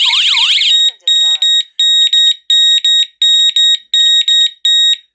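A loud siren wail from an OSI wireless strobe alarm siren cuts off, then gives way to a sharp electronic alarm beeping in a steady repeating pattern of paired tones, close by.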